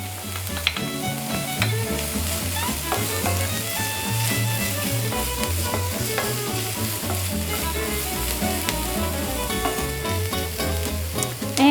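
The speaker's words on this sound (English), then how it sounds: "I'm gonna add in the garlic and let that cook about a minute" Minced garlic sizzling in hot oil in a pan, after sautéed onions, for a turkey burrito filling; a steady, loud frying hiss runs throughout beneath prominent music.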